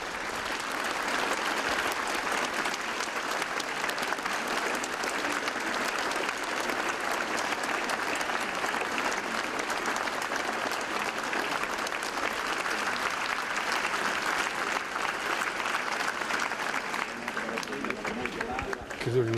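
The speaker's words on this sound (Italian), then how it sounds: "E si alza un applauso che vi faccio sentire" Sustained applause fills the air at Gilberto Benetton's funeral, a dense, steady wash of many hands clapping for nearly twenty seconds as his sports youngsters carry him up the steps, with faint crowd murmur underneath.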